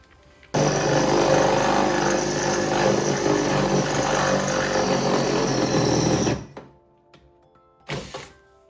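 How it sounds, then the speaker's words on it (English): A loud, steady drill with a 3/16-inch bit whirs continuously for several seconds while drilling a hole in a 2017 Toyota Tacoma truck bed, then cuts off; a brief second burst follows after a short pause. "I'm gonna take a 3/16 small drill bit and start my first hole"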